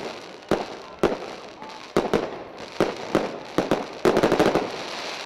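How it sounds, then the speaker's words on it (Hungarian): New Year's Eve fireworks go off over Keszthelyen, Hungary, just after midnight: sharp, loud bangs at irregular intervals, ending in a rapid crackling volley. "Pontosan éjfél után startolt a tűzijáték."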